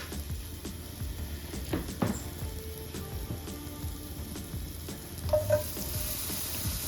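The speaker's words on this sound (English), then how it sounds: "So I'll saute them in butter." Mushrooms sauteing in about half a tablespoon of butter in a pan for pasta in white sauce, a steady moderate sizzle with occasional stirring clinks and scrapes, no voices.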